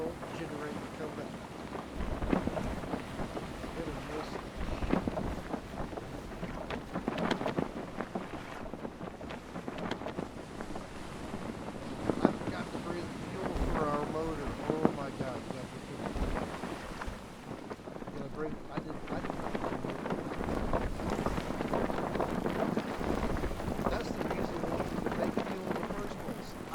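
A boat engine drones steadily while the boat runs over water in the survival video game Stranded Deep. The noise is continuous and rough under splashes and gusts, with someone talking over it.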